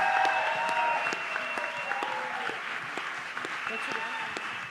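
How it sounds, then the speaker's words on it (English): Audience applause after an up-close session with Yemi Alade at the Rototom Sunsplash reggae festival; sustained, fairly distant clapping from a crowd that holds steady for the whole stretch, with some cheering mixed in. "give her another big, big round of applause"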